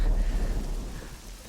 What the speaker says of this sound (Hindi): बारिश शुरू हो वहाँ गई।